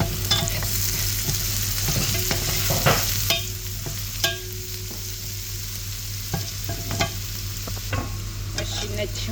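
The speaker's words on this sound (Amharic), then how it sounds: "ከዛ ሽንኩርታችንን ጥብስ እናደርጋለን።" Onions frying in oil in a pan for an Ethiopian rice dish, a constant close sizzle broken by repeated scraping and stirring knocks from a utensil, with no voices.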